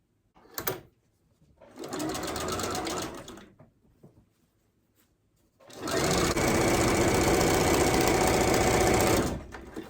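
A sewing machine stitches a quilt seam on a scrappy strip quilt in two runs, a short burst then a longer steady whirring stretch, close and clear with quiet pauses between.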